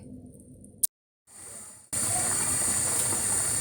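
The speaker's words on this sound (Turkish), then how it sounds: "Sosumuz bu şekilde kaynamaya başladı." Red pepper hot sauce begins to boil in a pot on the stove. After a short pause comes a steady, fairly loud hissing bubble that carries on to the end.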